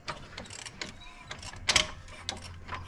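A screwdriver loosens screws on a BMW M47 diesel engine with a failed head gasket, giving close, scattered metallic clicks and scrapes with a sharper burst of ratcheting partway through, and no talking.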